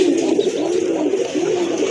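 A very large hen pigeon of fine colour, offered for sale, gives a steady low droning coo that carries on without a break, loud and close.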